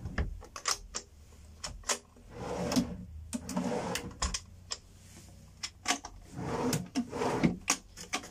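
Drawers in a caravan kitchen unit, a stack of three, open and close repeatedly with sharp wooden clacks, sliding rumbles and knocks in an irregular rhythm close by.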